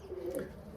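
A racing pigeon gives a single short, soft coo close by, with no other sounds.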